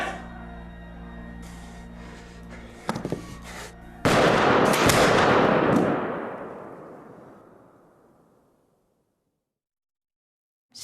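A gunshot rings out in a reenactment of Robespierre's arrest, following a few sharp clatters of commotion, with a loud blast whose reverberation rolls on for several seconds before fading into silence.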